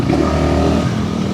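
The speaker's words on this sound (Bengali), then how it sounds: "আমাদের মোটর সাইকেল দুর্বল হয়ে যাচ্ছে কেন বুঝতে পারছি না" A motorcycle engine drones loudly and steadily up close while riding on a hilly road to Bogalake, a continuous throbbing hum with no talking over it.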